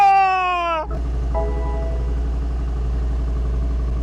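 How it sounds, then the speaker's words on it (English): A BMW X5M engine fires up after a short whine, then settles into a loud, steady, rumbling idle that fills the rest of the clip, close and unaccompanied by voices. "The car started up and made such a sound that at first I thought it was freaking broken."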